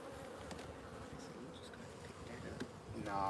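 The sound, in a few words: agitated honeybees buzzing at a beehive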